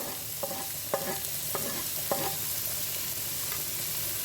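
Finely chopped onion and ginger frying in a pan, a steady dense sizzle with a handful of light stirring scrapes spaced through it.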